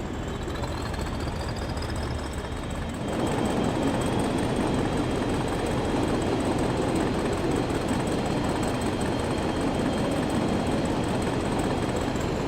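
A train's engine in Train Sim World 5 hums low and steady, then swells into a louder, fuller rumble partway through as it works harder, with a thin high whine above and no talk.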